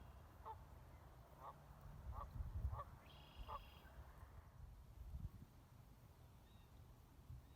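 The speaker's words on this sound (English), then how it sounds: "You can probably hear all the birds behind me." Distant honking waterbirds call a few times over a breezy outdoor background at a wetland pond in Indian Springs Metropark in spring, with a faint whistle-like tone in the middle.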